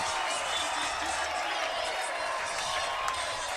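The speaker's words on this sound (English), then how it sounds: "Listen to that crowd, guys." A stadium crowd at an ultimate frisbee championship game cheers and applauds as a steady, dense roar that holds at an even level throughout.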